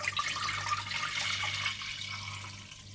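A litre of water pours into a cooking pot to make the stock for Kashmiri gushtaba, a steady splashing rush that fades out toward the end with no voice over it.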